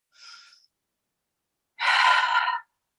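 Breathing during a yoga balance exercise: a short, soft airy inhale, a pause of over a second, then a longer, louder, fuller exhale, close and alone with no talking.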